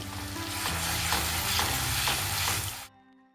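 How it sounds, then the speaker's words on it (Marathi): Chili paste sizzles loudly in a hot pan and is stirred with rhythmic scraping strokes. The frying is dense and close, then cuts off abruptly near the end. "आता आपण ह्यामध्ये ना जी आपण पेस्ट केली होती ना मिरचीची ती घालून घेऊया."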